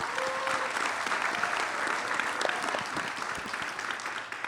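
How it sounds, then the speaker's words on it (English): An audience at a Title IX 50th-anniversary celebration gives steady, dense applause that holds throughout at a moderate level, with no talk over it. "Let's give them a round of applause."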